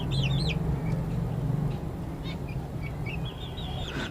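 Fancy white backyard hens clucking softly and steadily, with higher chirping bird calls weaving over the clucks throughout and a constant hum of background noise.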